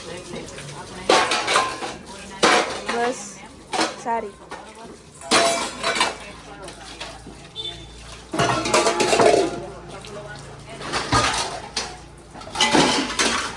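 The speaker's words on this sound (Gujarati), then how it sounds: "ચાલો ઉટકીએ વાસણ." Dishes, pots and utensils being scrubbed and washed by hand at home, with repeated bursts of clattering metal and clinking cutlery between quieter pauses, close by, while a person talks now and then.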